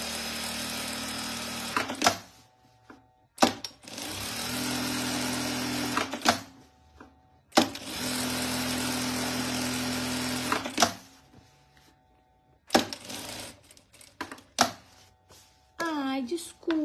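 A sewing machine stitches a seam on a quilted bag in several steady whirring runs of two to three seconds each, with clicks and pauses between them and someone talking at the end.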